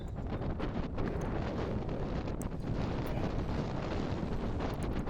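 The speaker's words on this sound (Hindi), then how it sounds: "ठंडी ठंडी हवा चल रही है माशाल्लाह।" Cool wind gusting after a heavy rainstorm in Hyderabad, a steady, loud rushing roar that buffets the microphone continuously, with no voices over it.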